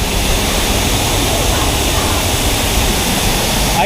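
Bridal Veil Falls roaring from directly behind the falling water, a dense, loud, unbroken rush of water filling the whole clip.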